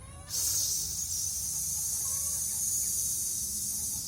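A person exhales steadily through the teeth to imitate a hissing snake during a storytelling voice exercise, one long, loud, sustained hiss that starts abruptly and holds for several seconds.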